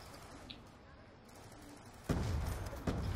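Muffled booming shots from a War Machine grenade launcher in Black Ops 2 Zombies, two or three heavy blasts in the last second, following quieter game ambience and a player speaking.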